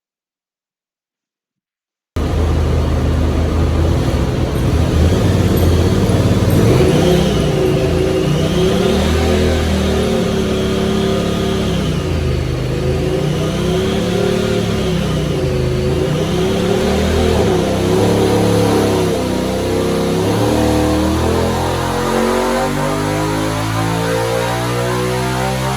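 A Honda Talon 1000 side-by-side engine revs hard on a dyno, loud and continuous with rising and falling pitch throughout the pull, starting after a brief silence.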